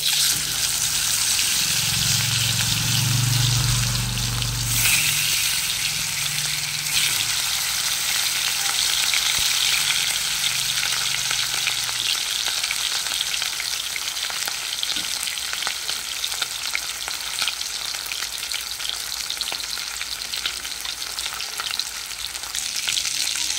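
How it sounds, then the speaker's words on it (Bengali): Fish frying in hot mustard oil, giving a loud, dense, continuous sizzle and crackle with a brief heavier burst near the start as the pieces go in. "তেলটা আমার গরম হয়ে গেছে, মাছগুলো এখন ভেজে নেব।"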